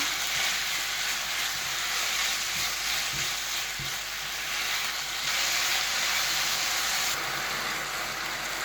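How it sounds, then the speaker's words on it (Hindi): Chicken pieces fry in hot oil with garlic, giving a dense, continuous sizzle with occasional soft stirring knocks, close and steady throughout. "चिकन को हम इसका कलर चेंज होने तक इसमें भूनेंगे ऑयल और लहसुन में।"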